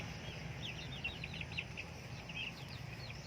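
Month-old native chickens chirp and peep in a grower pen, a soft scattered chorus of thin calls over a low steady background hum.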